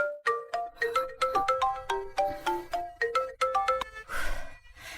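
A melodic phone ringtone plays a quick pattern of bright chiming notes, repeating clearly and alone for about four seconds before a brief noisy burst at the end.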